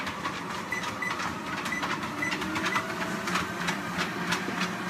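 A dog named Diesel running on a treadmill at about 2.5 miles an hour makes a steady, fast rhythmic patter of paws and belt clatter that carries on evenly without pause.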